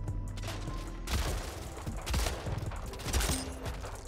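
Shotgun blasts in the arena shooter Splitgate, several dull booms spaced about a second apart over a dense, busy game soundscape.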